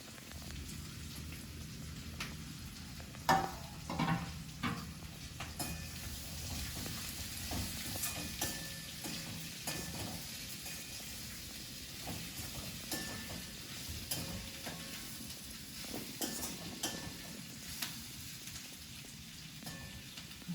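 Capsicum being stirred in a frying pan for a capsicum potato curry, giving a steady soft sizzle with scattered scraping and clinking clicks from the spoon, no voices.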